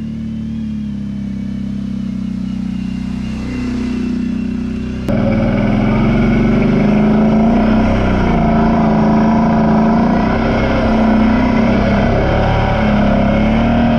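A Brute ATV engine drones and revs as it rides through a mud hole at a creek, a steady throbbing motor that swells sharply louder partway through and stays loud to the end.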